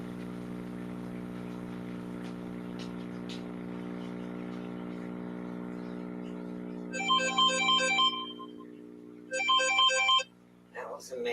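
A mobile phone ringtone sounds in two short bursts of bright warbling tones, loud against a steady low hum that runs under the whole clip.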